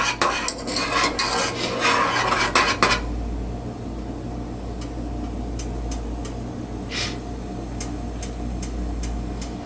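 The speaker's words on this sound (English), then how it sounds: "Stir that all in." Chocolate melts in a pan for hot chocolate while being stirred, giving a few seconds of busy scraping and clinking that then drop to a quiet background with occasional faint ticks.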